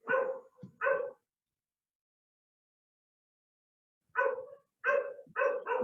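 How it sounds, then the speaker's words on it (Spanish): A dog barks in short bursts, two quick barks, a pause of about three seconds, then a rapid string of four more, fairly close and clear against near silence. "Es un perro pesado que no tiene que callarse."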